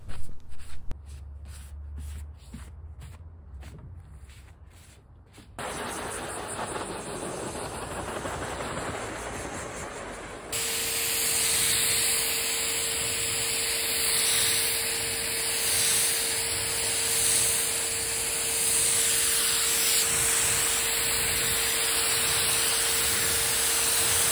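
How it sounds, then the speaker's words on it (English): Steady aerosol hiss from a spray can of primer being sprayed on a nightstand, starting partway in and growing louder, then continuing in a long unbroken spray. "And then I'm going to spray more primer."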